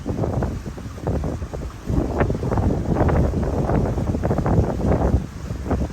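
Steady wind buffeting the microphone, a loud continuous low rumble with gusty surges throughout, on a boat in Porpoise Bay, Hernando Beach.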